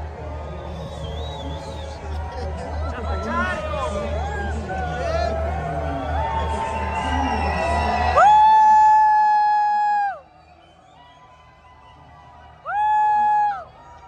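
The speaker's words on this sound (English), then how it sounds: "they scream every time we go under the bridge." Tour boat passengers scream together while passing under a bridge in Paris, with a long sustained shout from several voices rising over crowd babble and engine rumble, then a second shorter scream after a pause.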